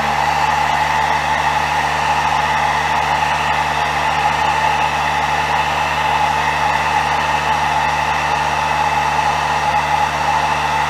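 Heat gun blows steadily on an airbrushed crawdad-pattern fishing lure, a loud, even whooshing hum with a low motor drone that holds unchanged throughout.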